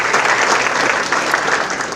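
Loud, dense audience applause for Dr. Michael Bentley at a university cockroach panel, a sustained roar of many hands clapping with no pause.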